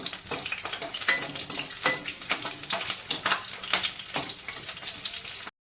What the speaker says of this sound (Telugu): అవి వేయించుకున్నామండి